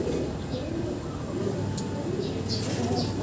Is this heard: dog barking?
no